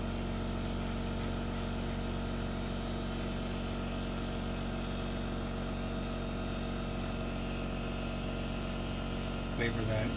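A Briggs and Stratton small engine runs steadily at close range, a continuous droning hum with a rough, even roar that holds for the full stretch, with a brief clatter near the end.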